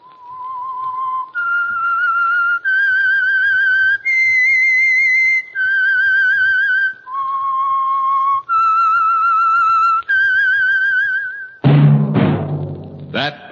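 Someone whistles the theme tune of The Whistler radio program, a clear solo melody of eight sustained notes rising and falling, followed by a brief loud orchestral sting.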